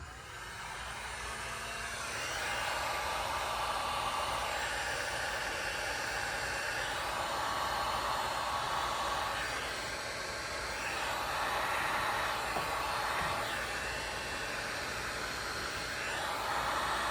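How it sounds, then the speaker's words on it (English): A steady, broadband blowing roar of a heat gun applying vinyl tint to a fog light, swelling slightly in loudness in the middle and near the end, with no talking. "We'll use a heat gun."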